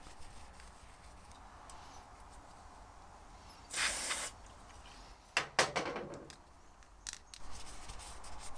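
Brake cleaner sprayed onto the rear brake caliper of a Suzuki GSF 650 ABS Bandit, heard as a steady half-second hiss followed by several shorter, uneven spurts of spray, fairly faint against a quiet workshop background.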